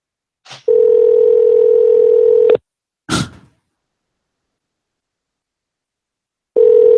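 A telephone call tone sounds while a voice call is placed, a loud steady electronic hum lasting about two seconds, a short click-like burst, then silence before the same tone starts again.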